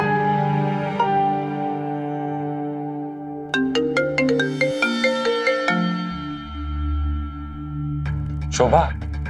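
A phone ringtone plays during a call, a melodic electronic tune of sustained tones followed by a quick run of bright plucked notes, with a brief voice near the end.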